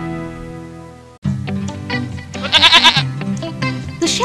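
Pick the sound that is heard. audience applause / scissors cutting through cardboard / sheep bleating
sheep bleating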